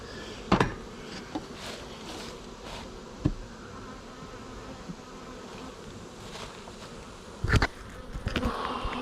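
Honeybees buzz continuously around a beekeeper, a close, steady swarm drone broken by a few sharp knocks or taps.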